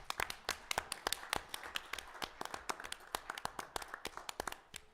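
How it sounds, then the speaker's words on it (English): Scattered hand clapping in a city council chamber as the audience applauds a youth leadership team, uneven claps from a few people, fairly close and quiet, with no talk over it. "we're going to give you a round of applause for being here and for your efforts"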